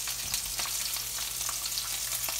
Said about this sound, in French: Ensuite, je vais mettre des oignons pour parfumer.